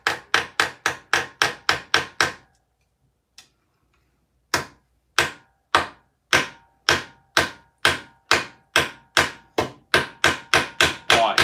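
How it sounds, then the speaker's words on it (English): Rapid, sharp metallic strikes from a planishing hammer on metal armour come in a fast even run, pause for about two seconds, then resume at a slightly slower, accelerating pace. Loud, close and without talk. "My hands are starting to hurt bad from that planishing hammer here."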